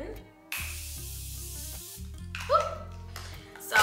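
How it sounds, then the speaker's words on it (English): Morphe Continuous Setting Spray hisses onto a face in one long steady burst, close and fairly loud, followed by shorter spritzes with music in the background. "I'm going to go in with this Morphe Continuous Setting Spray just to set all of that stuff"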